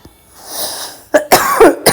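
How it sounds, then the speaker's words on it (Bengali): A woman coughs several times in quick bursts close to the microphone, loud and harsh, following a softer stretch of room noise at a home during the Ramadan fast before iftar. "আমার অনেক কাশি"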